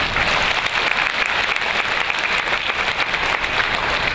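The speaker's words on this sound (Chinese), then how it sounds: "给自己一个最热烈的掌声" Audience applauding at a national volunteer award ceremony in Taiwan, a dense, steady burst of clapping from a large crowd filling the hall throughout.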